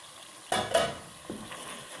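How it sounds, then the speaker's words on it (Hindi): Beef tahari being stirred in a cooking pot: a couple of quick scraping strokes over a faint sizzle, then a softer third stir, close and fairly quiet. "तो मैं चला लेती हूँ।"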